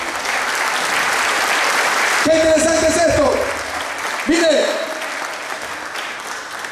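Church congregation clapping in a steady dense wash for about two seconds, then continuing under a voice that speaks in Spanish over it, with a brief swell of cheering before the applause thins out.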